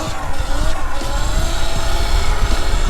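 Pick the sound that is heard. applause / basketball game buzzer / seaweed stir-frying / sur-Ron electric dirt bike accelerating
sur-Ron electric dirt bike accelerating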